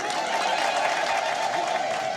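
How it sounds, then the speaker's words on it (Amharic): Audience at a Christmas gathering in Jerusalem applauding, a dense, even wash of many hands clapping that holds steady throughout the short stretch. "እስቲ አጨብጭቡላቸው"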